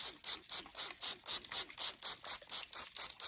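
Spray bottle misting onto hair, about ten short, even bursts in a steady rhythm, close and fairly soft.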